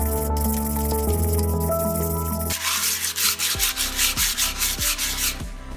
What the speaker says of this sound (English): now I'm gonna switch over to the little bit less coarse sandpaper.